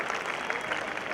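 Audience at a school annual function claps together, a dense burst of many hands heard indoors, steady and moderately loud for a brief moment.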